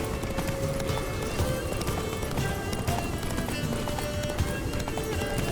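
Hooves clip-clop at a gallop in The Witcher 3, a steady drumming rhythm under constant rushing ambience. A faint tonal line runs through it and no speech is clear.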